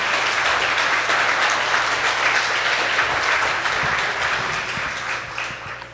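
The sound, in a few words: audience applause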